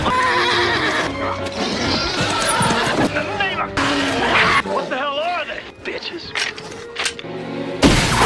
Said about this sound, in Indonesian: kuda mereka tiba-tiba jadi emosi ngamuk tak karuan di tengah jalan